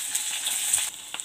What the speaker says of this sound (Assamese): পিঁয়াজখিনি ৰঙচুৱা হোৱালৈকে মই অলপমান ভাজি লৈছোঁ